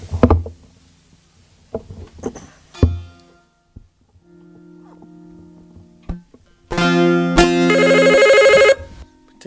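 A telephone rings during a Turkish folk-music call-in broadcast, loud repeated electronic ringtone bursts near the end after quieter knocks and a low sustained hum.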